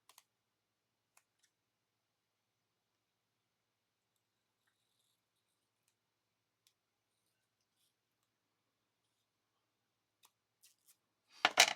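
Scissors cutting a sheet of patterned vellum paper in half, a long near-silence with a few faint clicks, then a short, close, crisp burst of cutting at the very end.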